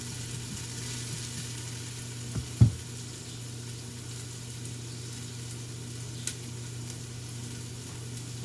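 Onions soften in a frying pan for braised red cabbage, giving off a steady, gentle sizzle with an occasional faint clink of utensil against pan.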